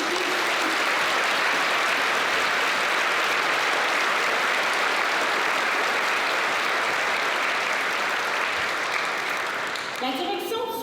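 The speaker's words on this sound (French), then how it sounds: "Applaudissons les invités." A school audience at a secondary school's year-end ceremony applauding the guests, a dense, sustained roar of clapping that holds steady throughout, with a voice starting to speak as it ends.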